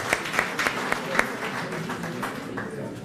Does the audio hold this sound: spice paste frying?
no